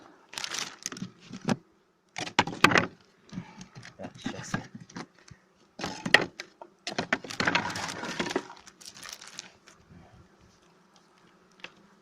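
Honeybees buzz at a hive beneath intermittent scraping and knocking of wooden frames being handled close by, with quiet pauses between bursts.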